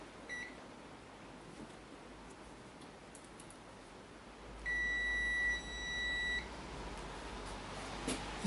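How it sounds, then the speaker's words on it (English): Electronic buzzer wired into the rebuilt front end of a BSA B25 Starfire motorcycle, giving a steady two-second tone over faint background hiss, with a shorter beep at the start. "The buzzer."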